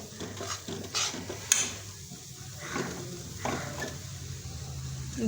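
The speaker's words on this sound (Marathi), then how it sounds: "हे पहा मस्तपैकी आपलं बेसन भाजत आहे" Gram flour roasting in ghee in a pan over low flame, stirred steadily with a soft scraping sizzle, close and fairly quiet, with a few light clinks of utensil against the pan.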